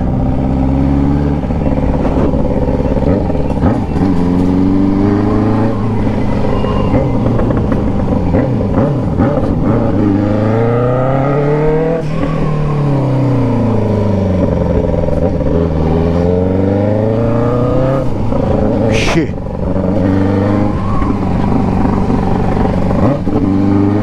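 A Yamaha X6 turbo motorcycle accelerates hard on a track, its loud engine note climbing and falling through repeated rising and falling revs, close and continuous for the whole stretch.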